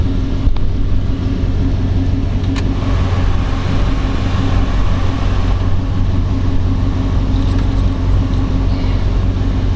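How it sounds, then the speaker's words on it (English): A 1950 Mercury Eight woody wagon with a Ramjet 350 multi-port engine idles smoothly, a steady, loud low rumble heard close up for the whole stretch with no speech. "Starts right up, runs wonderfully with that Ramjet 350 tune port underneath the hood"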